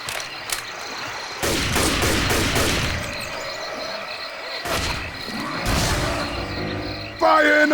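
Gunfire in the video game Left 4 Dead 2, rapid bursts of shots in several clusters, loud and close, with a voice briefly audible at the end.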